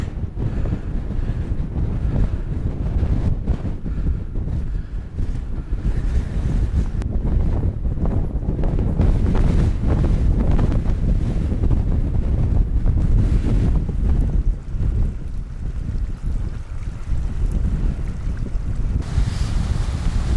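Stormy winter wind roars steadily beside a loch in Cairngorms pine forest, buffeting the microphone in loud gusts with a faint wash of water underneath. No one speaks.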